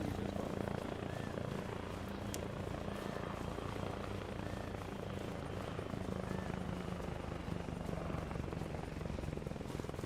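A helicopter flies overhead in the video game Arma Reforger, a continuous rotor thump and engine whine that stays steady and fairly close throughout, with no talk.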